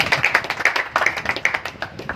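An audience at a Hindi motivational speech claps on request, scattered hand claps in an uneven rhythm that stay fairly light and thin rather than building into full applause.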